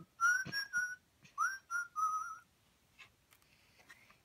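A zookeeper whistling a short tune of several clear, sliding notes, close and fairly loud, followed by a quieter pause with faint rustling.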